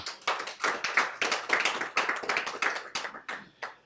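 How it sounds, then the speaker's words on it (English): A modest audience at a panel forum on state policing gives a round of applause, individual claps standing out distinctly in a quick, uneven patter that thins toward the end. "A round of applause for him,"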